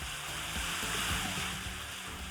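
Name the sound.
gallons of water being stirred in a tray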